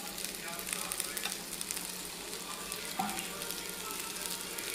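Carrot halwa with cashews and almonds frying in ghee, a soft, steady sizzle and crackle with faint stirring scrapes underneath, fairly quiet and continuous.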